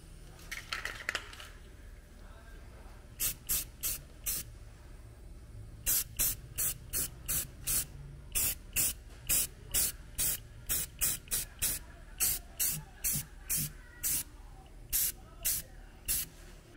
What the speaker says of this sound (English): if you spray paint something while the welds are hot